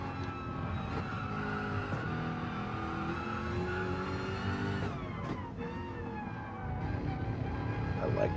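Jaguar GT3 race car engine in a racing video game, a steady loud roar with rising and falling revs that runs unbroken throughout, with no voices over it.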